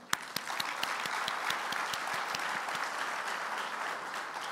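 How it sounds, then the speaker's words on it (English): Lecture audience at a university anniversary evening breaking into steady, sustained applause, dense clapping filling the room from start to finish with a sharp first clap. "may I implore you, clap so loudly, because this evening is all about excellence"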